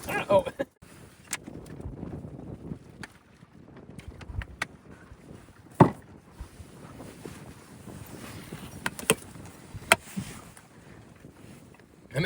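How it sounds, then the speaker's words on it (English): Gusty wind buffets the microphone while water sloshes and knocks around a small sailboat with no sails up, pushed along by the wind, with scattered sharp taps and creaks. "It's so windy. I don't even have any sails up, but it's pushing my boat fast enough to steer."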